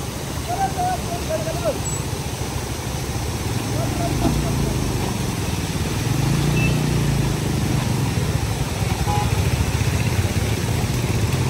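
Steady low engine rumble of heavy road traffic with cars and motorbikes idling and moving nearby, continuous throughout with a few faint horn-like tones.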